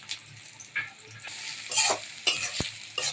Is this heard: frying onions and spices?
yes